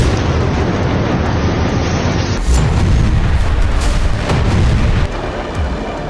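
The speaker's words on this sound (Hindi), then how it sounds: "आईडीएफ ने गाजा पर आसमान से मिसाइलें दागी तो एक इमारत पूरी तरह से तहस नहस हो गई।" Explosions from an Israeli missile strike on a building in Gaza roar as a continuous loud, broadband rumble with blasts and debris noise throughout, with no voices.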